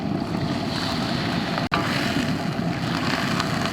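Water pours into a cooking pot for a braised pork and long green bean dish, making a continuous close rushing splash at an even level for a few seconds, with no talk.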